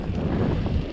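Steady, roaring wind rushes over the microphone of a 1991 bicycle speeding down a straight descent into a headwind, loud and continuous throughout.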